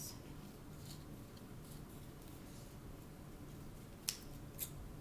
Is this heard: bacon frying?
no